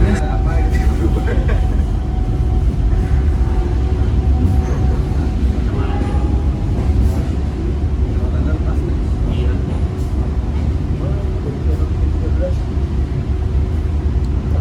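Inside the Cikuray economy train pulling into Pasar Senen station, a loud continuous low rumble of the moving carriage persists with steady rolling noise and faint higher clatter, while voices are heard talking over it.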